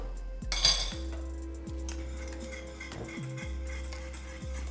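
Cocoa tea from St Lucia being whisked in a pot, giving a steady run of light metallic clinks and scrapes from the whisk, fairly close, with no one talking.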